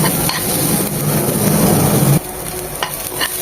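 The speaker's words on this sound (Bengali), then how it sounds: "আমি একটু তেলে নিচ্ছি যেন কাঁচা পেঁয়াজের গন্ধটা চলে যায়" Onions frying in oil in a pan for a charred tomato mash, a steady close sizzle with stirring scrapes that cuts off sharply partway, leaving a quieter hiss with a few light clinks.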